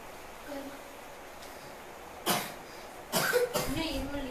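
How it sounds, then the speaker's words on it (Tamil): Two or three short, harsh coughs from a tuberculosis patient break out near the end, following a quiet stretch with a faint voice. "இன்னும் இருமல் நிற்கவே"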